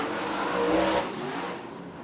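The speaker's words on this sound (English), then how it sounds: "Riley Knoll rolls up a little bit higher through turn 1, dives back down in turn 2" Late model race cars at Merritt Speedway roar past during a heat race, a loud, dense engine drone that swells and then eases slightly as the field moves through the turns.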